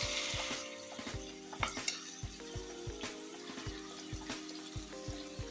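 Marinated chicken sizzles in hot oil in a wok, a steady crackle sitting under a fast, regular ticking pulse throughout, at a low level and with no voices.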